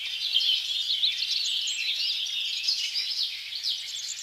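Continuous high-pitched parrot chirping and twittering, bright and busy, with no other sounds beneath it.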